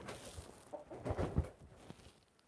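A chicken clucks softly nearby in a backyard flock at feeding time, a few low throaty clucks over faint background noise.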